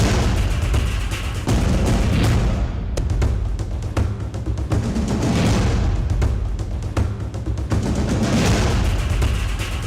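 Artillery cannon fire along the India-Pakistan border: a dense barrage of booms and gunfire with sharp cracks, loud and continuous across the whole stretch, no pauses and no talk.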